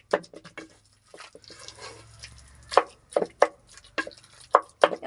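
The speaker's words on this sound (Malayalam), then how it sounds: "നല്ലോണം ഒന്ന് കുത്തി ഉടച്ച് കൊടുക്കുക." Coconut being pounded and mashed into a vegetable curry in a pot gives a series of sharp, close thuds and wet squelches, irregular at first, then coming in quicker bursts toward the end.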